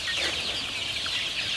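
Chickens clucking on a farm, a continuous flock chatter of soft clucks at moderate distance, with no talking.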